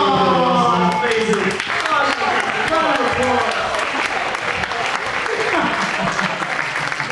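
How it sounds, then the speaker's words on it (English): An audience gives a round of applause at a president's challenge event, the clapping running continuously beneath loud talking and cheering voices close by. "give him a round of applause"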